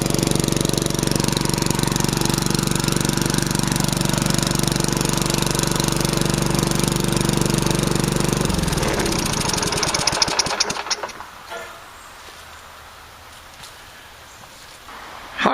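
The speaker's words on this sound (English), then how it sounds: "That's a 1990 Tecumseh engine." A small 1990 Tecumseh push lawn mower engine runs steadily and loud up close for several seconds, then sputters and dies away, leaving faint background noise.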